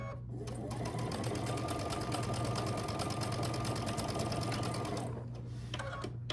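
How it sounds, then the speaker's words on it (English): A sewing machine stitches two fabric pieces right sides together along a quarter-inch seam, a close, rapid mechanical whir for about four seconds, starting and stopping cleanly with no speech. "Then I'm going to take these 2, right sides together, stitch down this line, again 1/4 inch."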